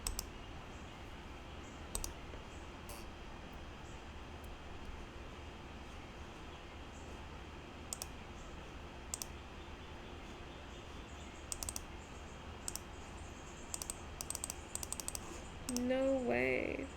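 Light, sparse clicks of typing on a computer keyboard while setting up a coding environment, quiet and irregular against a steady low background hum, with a voice briefly at the end.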